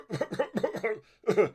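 A close, loud burst of several rapid coughs, a brief pause, then one more cough.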